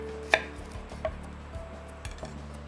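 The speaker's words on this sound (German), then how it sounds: "Und jetzt schneiden wir uns da einfach so ganz dicke Scheiben runter." A knife cuts thick slices from an onion on a board in a kitchen, giving a few distinct, close chopping knocks spaced irregularly over quiet background hum, with no talking.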